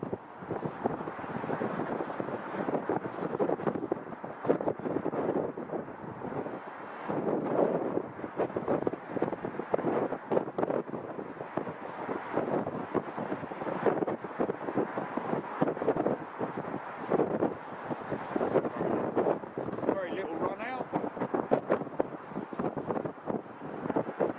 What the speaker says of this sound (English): God, this wind is harsh.